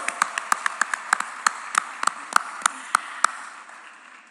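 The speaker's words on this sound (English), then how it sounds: "We're going to give her a huge round of applause." Scattered hand claps from an audience greet guest of honor Hema Malini at India's first SCO Film Festival: about fifteen sharp, separate claps at a brisk, uneven pace, fading out near the end.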